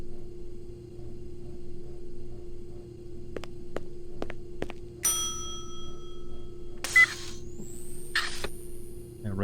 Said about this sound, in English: Rang the bell for service.